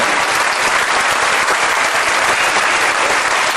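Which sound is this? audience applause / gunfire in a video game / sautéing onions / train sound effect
audience applause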